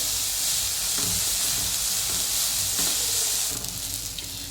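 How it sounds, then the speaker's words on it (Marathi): Sprouted moth beans roasting in a little oil in a pan, a steady loud sizzle and hiss throughout with soft stirring scrapes now and then, close by. "ह्यात होतंय बघा थोडंसं तेल टाकून भाजूया, चांगलं मटकी भाजत्या"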